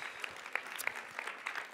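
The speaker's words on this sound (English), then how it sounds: "Round of applause for this gentleman." A short burst of audience applause for a man from the crowd at a debate design talk, scattered claps at a moderate level with no voices over it.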